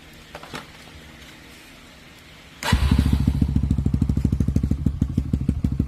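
Kawasaki KLX dirt bike fitted with an aftermarket exhaust, quiet at first, then the engine fires up and settles into a loud, steady, throbbing idle with rapid pulsing exhaust beats close by.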